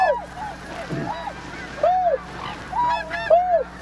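Swans flying in and calling, several loud honking, bugle-like notes arriving in irregular pairs and clusters, fairly close, with a soft voice briefly underneath.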